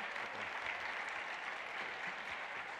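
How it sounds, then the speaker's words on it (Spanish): Applause from the audience at a genealogy expo talk on Spanish immigration: steady, dense clapping that holds at an even level throughout, with no voices over it. "Así que démosle un fuerte aplauso."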